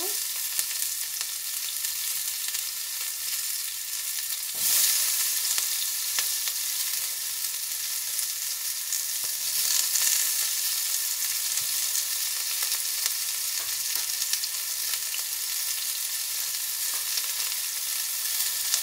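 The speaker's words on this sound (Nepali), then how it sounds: "अब मैले साथसाथमा यसमा प्याज पनि राख्न गइरहेको छु" Onion sizzles in hot oil with cumin seeds and dried chili while cooking Nepali-style asparagus saag, a continuous hissing fry with occasional crackles and stirring, no voices.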